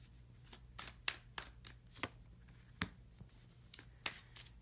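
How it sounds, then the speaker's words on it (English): Alchemist oracle cards laid out one by one on a table, giving about a dozen soft, crisp snaps at uneven intervals in a quiet room. "I'm going to lay a few of the Alchemist oracle cards out"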